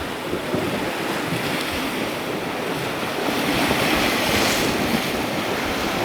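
Strong wind blows at sea on a fishing trip for big red sea bream. A steady, loud roar of gusts mixes with wave wash, with no letup and no voices.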